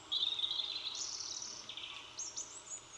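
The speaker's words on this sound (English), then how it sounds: "I actually use the forest birds. So I wake up with chirping birds." Forest birdsong from a nature-sound alarm clock: several bright chirps and warbling phrases, moderately close and continuous, over a soft background hiss with no talking.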